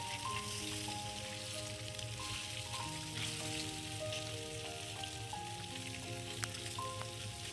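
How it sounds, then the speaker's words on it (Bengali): Duck eggs fry in oil with a continuous, fairly soft sizzle and crackle. The frying runs alone without talk, and a faint tonal hum sits in the background. "এবার ডিমটা খুব কড়া করে আমি ভাজবো না হালকা করে ভেজে নেবো"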